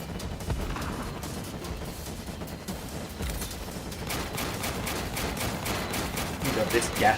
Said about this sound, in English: Shoot faster, my little turrets